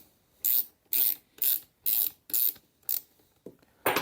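A ratchet ring spanner clicking during a Stihl chainsaw repair, seven loud evenly spaced bursts of rapid ratcheting close up, each about half a second apart.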